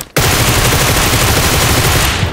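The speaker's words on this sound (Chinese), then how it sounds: "前面还有枪声，咱们直接拉过去" Rapid automatic gunfire in the PUBG Mobile Metro Royale mode, a loud, continuous burst of shots that starts abruptly and runs almost unbroken before cutting off.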